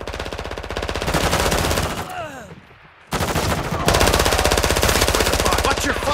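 Rapid automatic gunfire from a video game fills the scene, loud and sustained, with a brief lull partway through before the bursts resume even harder; background chatter sits under the firing.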